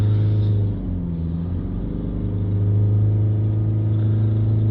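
A Vauxhall Vivaro van's diesel engine, with an AdBlue and NOx sensor fault, held at raised revs, a loud steady drone that dips briefly and recovers, close up with no talking.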